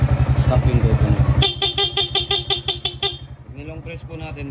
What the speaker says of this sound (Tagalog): nilagay po natin denso horn po to